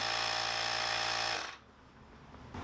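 Tire inflator pumping air to make aircrete foam, a steady buzzing motor hum that cuts off abruptly partway through, leaving quiet background noise before a faint sound returns at the end.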